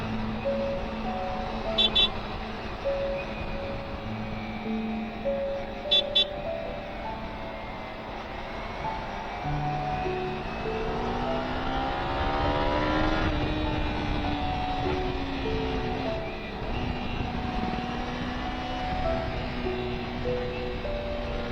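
A 2024 Kawasaki Ninja 300 rides through busy road traffic near Hyderabad, its engine droning steadily with rising revs, wind noise and a couple of brief horn beeps from surrounding vehicles.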